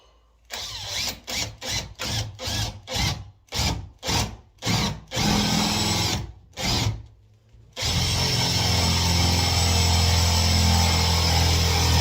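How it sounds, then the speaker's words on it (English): A power drill bores a hole in a door being hung, running in a series of short, loud bursts that then give way to one long, continuous whir of drilling. "and then I'll drill a hole."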